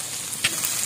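Garlic sizzles in hot oil while devilled garlic cooks in a pan, a brief steady frying hiss with one louder crackle in the middle.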